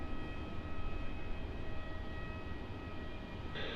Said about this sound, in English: Vietnam A350 is going